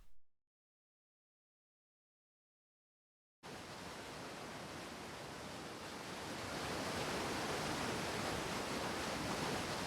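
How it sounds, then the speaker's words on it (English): Jungle river in Fate/Grand Order, heard as steady broadband rushing water that begins after about three seconds of silence and grows slightly louder, with no voices. "I can hear running water. We must be near the river."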